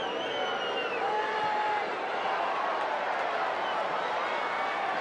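A stadium crowd at an Australian football match between the Kangaroos and Sydney roars in a broad, sustained, distant wash of cheering and whistling after a shot at goal, with a commentator's voice faintly underneath.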